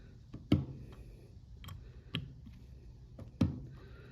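Torque wrench clicking while tightening reed valve bolts on a Yamaha 85 HP outboard motor, a few sharp separate clicks spaced about a second or more apart, near and distinct over quiet background.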